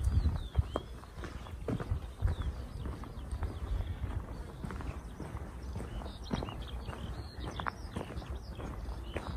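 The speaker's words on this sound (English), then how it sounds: "And I can see there are many horses." Horses walk outside a privately owned stable in a Czech village, their hooves clip-clopping in a quiet, uneven rhythm against soft outdoor ambience, with occasional bird sounds.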